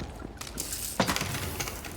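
Wooden objects splinter and smash in the video game Tiny Tina's Wonderlands, a quick run of crunchy breaks with one sharper crash in the middle, fairly quiet overall.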